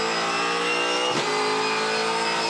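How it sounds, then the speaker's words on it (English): A V8 Supercar race engine screams at high revs during a race at Phillip Island, dipping sharply for a quick upshift into fourth gear before climbing again. "Fourth gear into the final corner."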